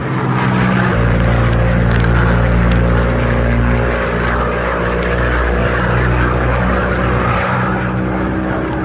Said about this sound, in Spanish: La avioneta se cimbraba como si fuera a estallar en pedazos.